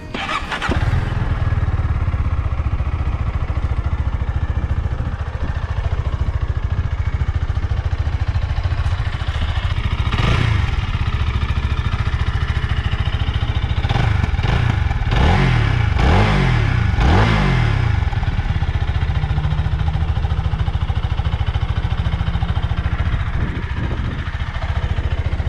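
A 2023 Zontes V 350 motorcycle engine cranks and starts, then runs steadily close by for over twenty seconds, with several sharp throttle blips midway before settling back to a steady idle.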